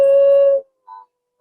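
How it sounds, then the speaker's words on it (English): An adult coyote lets out a clear, sustained howl that cuts off abruptly, followed by two short, thin yips from a pup, heard at night with no background noise. "You can hear a little one yipping while the adult is howling."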